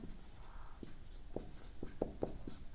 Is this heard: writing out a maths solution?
yes